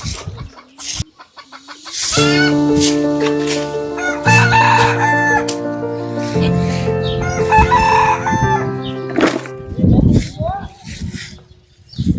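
Chickens cluck and crow close by while a person talks, with sustained tonal calls layered under the voice.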